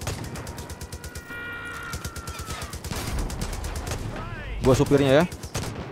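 Gunfire in Far Cry 5 during an airship battle, with rapid repeated shots under excited talking, a mechanical whine rising midway and a loud burst of noise near the end.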